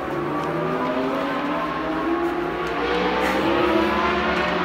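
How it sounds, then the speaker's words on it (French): Motorcycles racing around a circuit, a continuous high-pitched engine drone from the track with slight rises and falls in pitch, heard from a distance with no talking. "On entend les motos sur le circuit"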